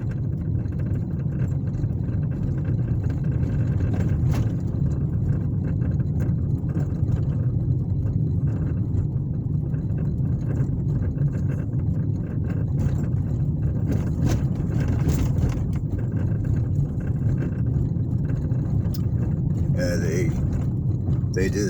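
Car driving along a town street in southeast Anderson, Indiana, heard from inside as a steady low road and engine rumble with wind noise throughout, and a short rattling sound near the end.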